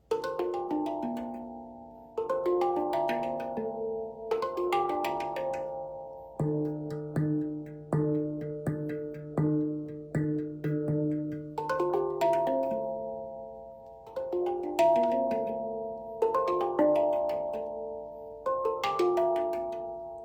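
Bright, bell-like metallic tones struck one after another in a steady rhythm, notes ringing and overlapping, played alone with no talking.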